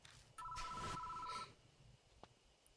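A telephone rings once at a phone booth in the Spirit Hunter: Death Mark video game, a steady electronic trill about a second long, with a faint click afterward and low background noise.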